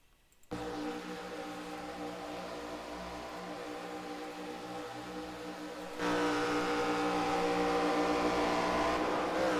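Race cars roar around Talladega as one car brakes and spins amid the pack, a steady loud engine drone that jumps louder partway through, with no voices.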